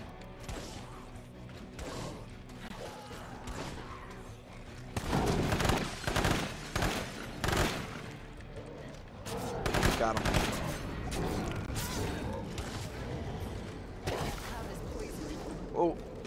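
Gunfire in the zombie survival video game State of Decay, bursts of rapid shots and clattering mechanical noise, loud and dense, with a voice talking at times.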